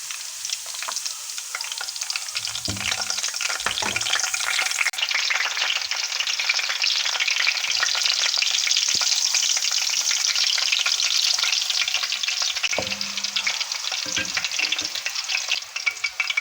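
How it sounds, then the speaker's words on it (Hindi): Chopped garlic and green chilies fry in oil in a loud, steady, close sizzle that hisses on throughout, broken by a few low knocks and scrapes of stirring, with no talking. "और साथ ही मैं इसमें ये वाली ग्रीन चिलीज़ भी ऐड कर दूंगी। और इनको अच्छे से फ्राई कर लूँगी।"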